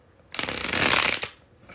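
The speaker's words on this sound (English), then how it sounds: "there it was, the bridge shuffle" A deck of playing cards given a bridge shuffle: a quick riffling flutter of cards lasting about a second, loud and close, ending in a soft snap as the cards bridge together, heard alone.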